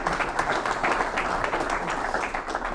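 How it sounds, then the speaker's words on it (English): A Kiwanis club audience gives a dense, steady round of applause that runs throughout at moderate loudness, with faint voices mixed in. "So why don't you give him a round of applause as well."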